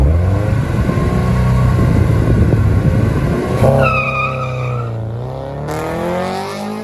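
A naturally aspirated front-wheel-drive Honda Civic with a B20 VTEC engine screams down a drag strip, revving hard through loud, close gear changes with sharp pitch drops between shifts.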